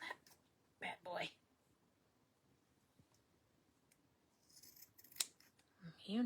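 Scissors trim a bee door hanger craft in a few short, close snipping bursts separated by quiet pauses.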